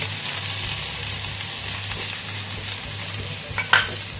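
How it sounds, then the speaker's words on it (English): Chopped ginger, garlic and onion sauté in a pan for misal, a continuous frying hiss under a low hum, with a brief spoon scrape near the end. "Saute it for a minute or so."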